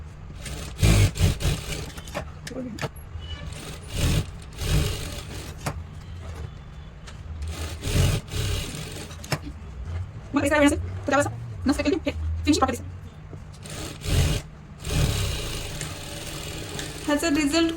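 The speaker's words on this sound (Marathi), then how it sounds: "स्टिच करताना आपल्याला छोट्या शिलाईवर आपल्याला स्टिच करायचे" Sewing machine stitching piping onto a blouse with a short stitch length, running in several short bursts of rapid mechanical whirring between pauses, close by, with someone talking throughout.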